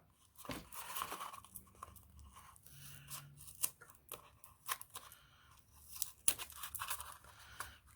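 Scissors cut through paper and a cardboard toilet paper cylinder, quiet irregular snips and crunchy rasping with some crinkling, close by.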